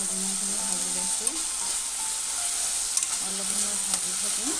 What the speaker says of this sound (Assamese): অলপ সময় ভাজি থাকিম